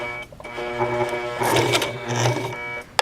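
A sewing machine stitching a skirt placket runs in a steady close whir for a few seconds, ending with a sharp click as it stops.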